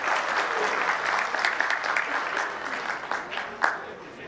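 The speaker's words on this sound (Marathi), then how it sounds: "त्याबद्दल आपण सर्वांनी टाळ्या वाजवून त्यांचं कौतुक करूया" Sustained applause from the audience at a retirement reception for Subodh Relekar, marking his 32 years of service. It is a steady patter of many hands, moderately loud and fairly even, with a brief louder swell near the end.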